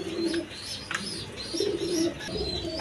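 A pair of colored Golla pigeons, male and female, coo repeatedly at close range, with low rolling coos recurring through the stretch and light chirps and background noise around them.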